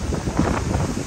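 Strong outdoor wind gusting steadily into the microphone, producing a brief, loud, rumbling buffet with no voices.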